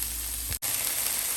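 Mushrooms and green peas fry in a pan with a steady, bright sizzle, broken by one brief cut near the middle before the hiss resumes, no talk.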